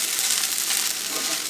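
Okra frying in a pan gives a steady, close sizzle with a busy high hiss and faint crackles, continuous and even with no one talking.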